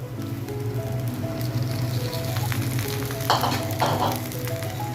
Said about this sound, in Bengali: এখন আমি এর মধ্যে ছোলাটা দিয়ে দেবো